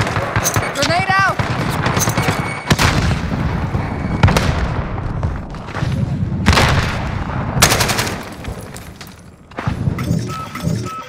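A grenade explodes amid dense gunfire in the video game Modern Warfare, with loud, rapid automatic bursts, sharp single shots and booming impacts all close by, and voices calling out between the shots.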